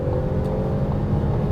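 A 2017 Ford Escape Titanium Sport accelerates at full throttle in second gear with paddle shifters, giving a steady, loud, droning engine and road roar with no break and no voices.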